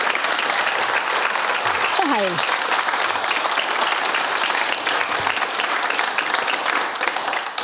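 Steady, loud studio-audience applause greets German labour minister Hubertus Heil on a talk show, continuing throughout while a host briefly speaks over the clapping.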